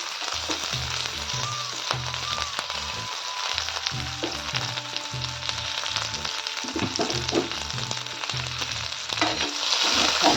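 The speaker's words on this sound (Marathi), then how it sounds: "यात टाकूया आपण कांदा हिरवी मिरची" Onion and green chilli with curry leaves frying in a hot pan, producing a constant crackling sizzle with repeated rhythmic low knocks of stirring beneath it, close and even over ten seconds, no voices.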